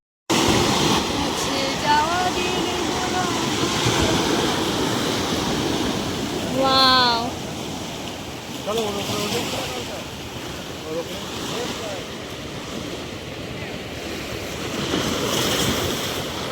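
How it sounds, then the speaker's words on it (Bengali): Sea surf breaking steadily on the beach at Fraserganj near Bakkhali, a continuous loud wash of waves with wind buffeting the microphone, and a brief exclamation from a voice partway through. "ঢেউটা দেখুন কত সুন্দর।"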